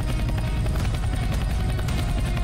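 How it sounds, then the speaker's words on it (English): Steady, loud helicopter rotor and engine roar aboard a helicopter in the Half-Life 2 mod Snowdrop Escape, a continuous dense rumble filling the whole stretch with no talking. "I just got on a helicopter and that's literally it"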